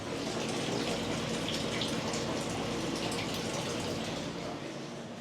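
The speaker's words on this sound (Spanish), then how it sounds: "ahí pueden estar escuchando que está entrando el agua" Water gushing steadily into household reserve tanks at a home in Cuba, a continuous broadband rush like a filling tap, close and fairly loud, holding level throughout and easing slightly at the end.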